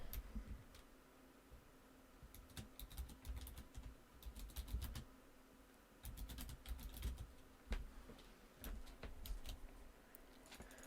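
Computer keyboard typing while text is entered in Photoshop, heard as irregular bursts of clicky keystrokes over a low steady background hum, fairly close and moderate in level, with no talking.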